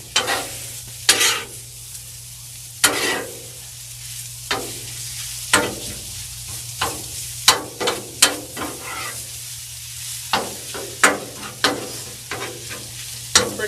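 Pasta linguine and cream cheese sizzle on a hot Blackstone griddle while a spatula scrapes and stirs in a steady run of sharp, close clacks over a constant frying hiss, with no talking.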